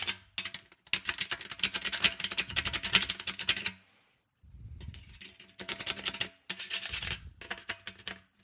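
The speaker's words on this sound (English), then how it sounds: "Again, back to our trusty file block" Metal file block rasping along the edge of an aluminium airplane wing during a homebuilt wing build, loud close strokes in bursts with brief pauses between passes.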